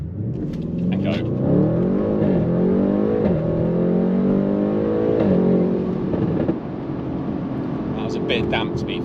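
A Stage 2 tuned Audi RS6 launches hard from launch control on a damp road with slight wheelspin, its engine note climbing loud and close through several rising sweeps and gear changes, with brief voices at the start and end.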